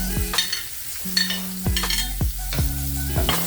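Garlic and onion sautéing in a pan for squid with bell pepper, a steady sizzle broken by several sharp spatula scrapes and knocks against the pan, no speech.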